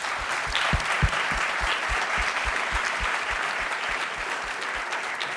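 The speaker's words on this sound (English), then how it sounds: "let's give our champions a round of applause here" An audience applauds for champions at a young entrepreneurs event, steady dense clapping throughout with a few sharper individual claps standing out, loud and close, with no talking.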